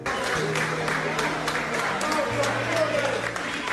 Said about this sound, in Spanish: Aplausos y ovaciones para uniformados